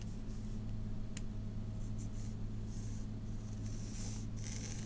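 Pen drawing a line on a graph, soft scratchy strokes repeating close up over a low steady hum.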